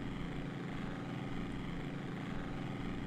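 Steady droning propeller-plane engine from the Amiga flight game Wings by Cinemaware, a continuous loud buzzing hum that stays even for the whole stretch, with no voices over it.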